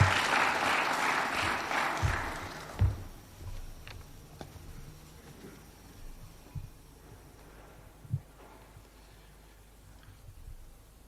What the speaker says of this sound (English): Why don't we welcome him with a warm clap?